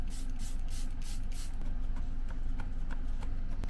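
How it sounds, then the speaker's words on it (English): A Tarte Life Lock Hydrating Setting Spray bottle gives several quick, airy misting bursts in a row, followed by softer rustling and small handling taps from the cosmetics, close up with no talking. "I'm using the Tarte Life Lock Hydrating Setting Spray."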